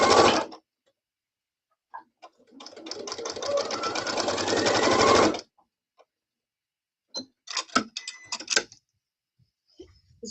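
A sewing machine stitches fabric in a continuous run of rapid mechanical ticking lasting about three seconds, framed by brief bursts of machine noise and a few scattered clicks and handling sounds on either side.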